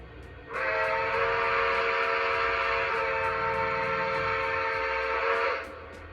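Steam whistle of a Pacemaker Mohawk model locomotive, one sustained bright chord-like blast of about five seconds, clear and close, over faint low background noise with a soft repeating ticking.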